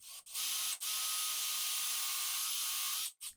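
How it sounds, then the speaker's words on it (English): A drill boring dowel holes into cabinet panels for a tambour door cabinet, one steady whining run of about two and a half seconds, starting and stopping with brief breaks, close and clear. "I can start drilling my dowel holes."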